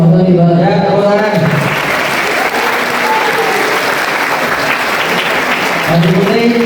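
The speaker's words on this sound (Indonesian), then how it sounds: "Ya, tepuk tangan." Audience applause at a graduation ceremony for Islamic boarding school students, a loud, dense wash of clapping that fills several seconds, with a voice speaking before and after it.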